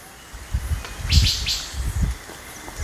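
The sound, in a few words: forest birds chirping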